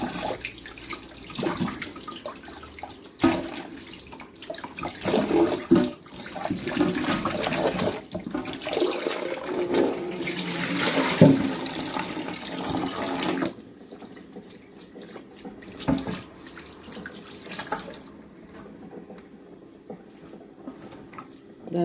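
Water runs from a kitchen tap while peeled yam is rinsed, a steady splashing flow with handling knocks, fading to quieter dripping near the end.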